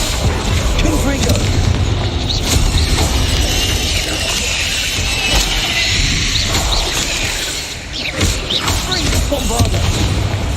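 Confringo explosion spell blasts in a Harry Potter-style video game, heard as heavy continuous booms and shattering crashes layered with battle noise, loud and dense throughout, with voices in the mix.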